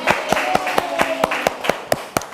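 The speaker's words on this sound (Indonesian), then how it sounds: "Tepuk tangan untuk kelompok Aisyah Sarah." A classroom group claps for a presentation group, about a dozen sharp, fairly even claps spaced across a couple of seconds, close and moderately loud with a faint murmur beneath.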